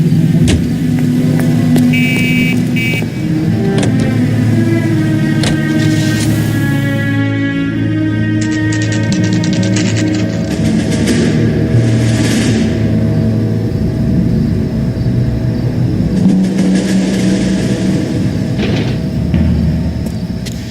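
Car driving in the L.A. Noire video game, a loud steady engine hum with gear shifts and rising revs, plus some clunks and higher tones over a low rumble, with no talk.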